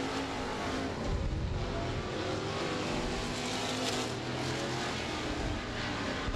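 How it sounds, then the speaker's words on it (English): Race cars roar around the Monarch Motor Speedway track, a steady distant engine drone that swells as cars pass, with crowd and ambient noise mixed in. "Casey McAllister and Blake Clark hustling on down the back straightaway, riding down your leader, the 90 of Tommy Fain."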